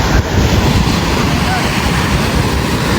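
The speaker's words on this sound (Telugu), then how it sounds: "అలలు బాగానే గట్టిగానే వస్తున్నాయి." Strong sea waves roll and crash onto Rushikonda Beach in Visakhapatnam. The surf roars loud and steady, mixed with heavy wind buffeting the microphone, and no breaks in the water can be picked out.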